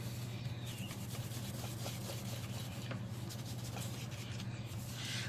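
An old bit of towel rubs steadily across an artist trading card, a continuous dry scrubbing close up and fairly quiet, with a low steady hum underneath.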